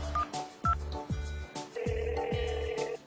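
A phone number is keyed in on a telephone: a few short, distinct keypad tones, then a sustained steady tone, all over a faint rhythmic thumping background.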